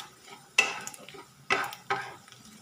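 Peanuts stirred while roasting in a pan with shells cracking, three distinct rattling scrapes of nuts sliding against the metal, close up, separated by quieter gaps with a faint crackle underneath.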